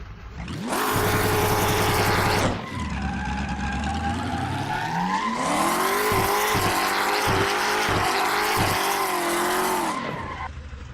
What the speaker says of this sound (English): Every racing driver worth their salt wants to do a donut when they win a race.